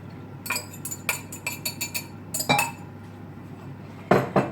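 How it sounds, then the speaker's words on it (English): A utensil clinks and scrapes against a ceramic crock pot while stirring cashew chicken, in quick irregular bursts, close and fairly loud, with a pause before a final flurry. "Going to give my crock pot a stir."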